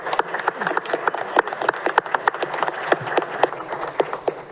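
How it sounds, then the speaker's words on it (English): Scattered applause from the audience at a city council meeting, moderately quiet individual claps with an uneven rhythm from a small crowd in a meeting room. "You can't clap until we approve it."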